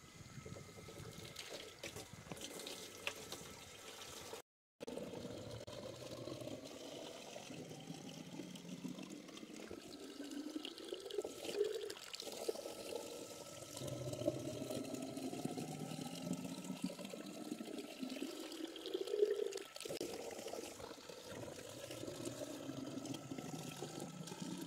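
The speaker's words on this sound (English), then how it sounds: "and I'm going to fill my buckets." Water runs from a hose into buckets in a steady, soft rush, the pitch slowly shifting as the containers fill, quiet and close with no talk.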